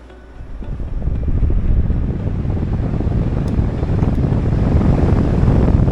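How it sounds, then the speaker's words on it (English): A steady, loud whirring drone fills the clip, swelling after the first second and holding constant like a fan running close to the microphone. "This fan makes so much noise"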